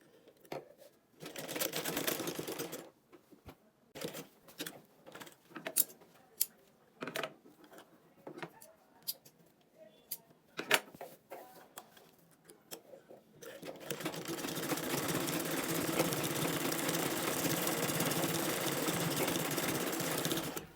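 Sewing machine top-stitching a gathered fabric frill in place, first a few short start-stop bursts of stitching and clicks, then a long, steady, close whir running to the end.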